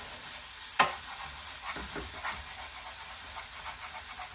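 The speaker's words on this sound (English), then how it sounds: "Now it does say scrape this pan, get all this seasoning off." A wooden spatula stirs and scrapes rub seasoning off a non-stick pan while a beef roast sizzles, with one sharp scrape near the start followed by steady frying hiss and soft repeated stirring strokes.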